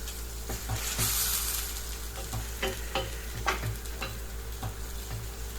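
Lacquered pork sizzles steadily in a frying pan after soy sauce is added. Light ticks of stirring and spattering break through a constant close hiss, and there is no speech.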